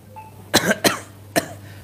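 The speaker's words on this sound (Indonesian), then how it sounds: "batuk saja" Three sharp coughs from one person, the first pair close together and the third after a short pause, loud and near over a faint hum.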